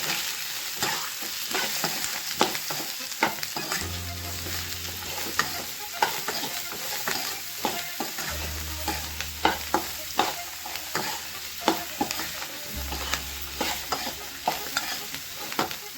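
Peanuts frying in a pan with a little salt for peanut chutney, a quiet sizzle under repeated close scraping and stirring strokes, with occasional low hums from the stove.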